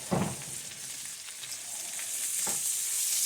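Diced peppers and onions sauté in a hot pan for pepper steak, giving a steady close sizzle with a couple of brief stirring clatters near the start and middle.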